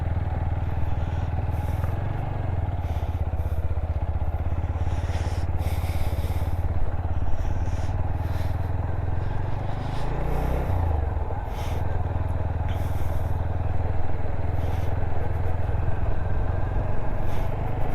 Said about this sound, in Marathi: हे अशा कच्च्या रोडवरती बाईक चालवायला ना काल